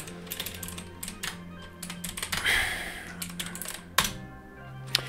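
Typing on a computer keyboard while editing a config file on Linux, quick close clicks in short bursts and pauses, with a longer run of keystrokes near the middle.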